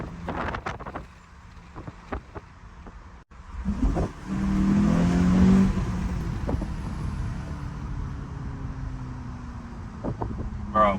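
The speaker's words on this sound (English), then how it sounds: "now we can put the windows down and see how the car really sounds" A 2024 Volkswagen Jetta GLI (MK7.5) drives with its windows down, and a steady road and engine rumble swells as it accelerates, with wind buffeting and a few sharp clicks and knocks inside the cabin.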